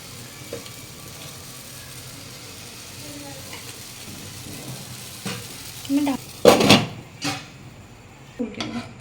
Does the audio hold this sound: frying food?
yes